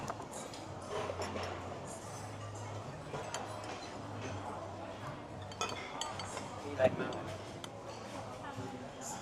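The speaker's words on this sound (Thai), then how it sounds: "หอยเป่าฮื้อค่อนข้างเหนียวนะใช้ช้อนตัดไม่ขาด เดี๋ยวใช้มีดกันจ้ะ" A knife and spoon clinking and scraping on a plate while cutting tough abalone at a lobster buffet, light irregular taps and clinks under steady restaurant chatter and someone talking.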